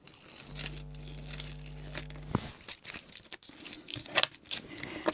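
Adhesive tape is peeled off close by in a few crackly, tearing pulls, with a steady low hum under the first half.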